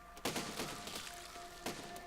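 Cannon fire in the Besiege video game: two sharp, heavy booms about a second and a half apart, each with a short rumbling tail over steady game background sound.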